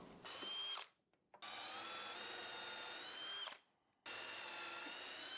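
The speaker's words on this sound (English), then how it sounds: "I'm just going to drill." A power drill whines steadily through wood in three long runs, boring a 1 3/8 inch hole, separated by short pauses, close and loud.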